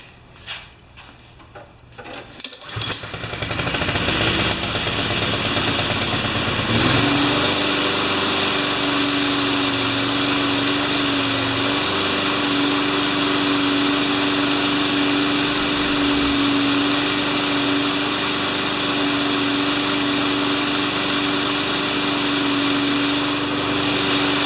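A Craftsman 21-inch mower with a Honda engine, run with a little choke: a few handling clunks and rattles, then the engine catches and settles into a loud, steady, close idle drone.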